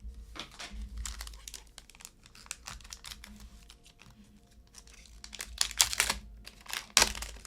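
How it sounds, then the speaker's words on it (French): Plastic blister pack of One Piece trading card boosters being opened by hand, a run of close, crackly crinkling and tearing bursts that grow louder toward the end over a faint background hum. "J'ouvre d'abord le blister et ensuite le booster."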